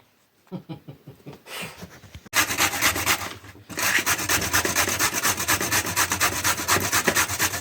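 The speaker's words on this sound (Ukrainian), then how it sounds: "натираємо морковочку" A carrot is shredded on a grater for squash caviar, a few loose scrapes at first, then steady, dense rhythmic rasping strokes close to the mic, with no talk over it.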